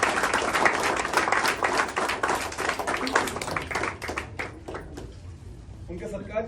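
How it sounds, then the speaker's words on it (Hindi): An audience breaks into loud, dense applause honouring a guest at a Hindi theatre event; the clapping fills the space, then thins out and fades toward the end. "तो बोलना चाहूंगा एक बार जोरदार तालियां जयंत देशमुख जी के।"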